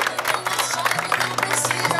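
Hands clapping at a family gender-reveal party in a home setting, steady dense applause from a small crowd under a low hum, no clear talking.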